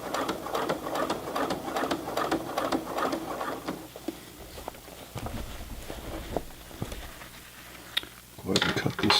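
A Brother PC 420 sewing machine stitches a heavy Levi's jeans hem, its needle running in a fast, steady mechanical chatter that pauses midway, then starts again in short bursts, close and clear.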